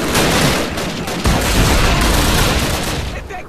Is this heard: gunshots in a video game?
yes